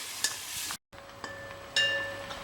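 Onions for chicken curry fry lightly in a pan with a steady close sizzle, broken by a brief cut and small clinks of a spoon stirring.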